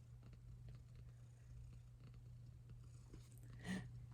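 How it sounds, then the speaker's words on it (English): A soft, steady low purr rumbles continuously up close, very quiet, with one brief louder chirp near the end. "she is purring like a little engine"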